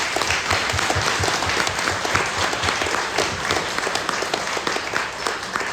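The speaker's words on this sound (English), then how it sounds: "I think we need a round of applause just for our men and women who wear the badge." Audience at a community event in Roxboro applauding police officers, a loud, dense wash of clapping sustained throughout without speech.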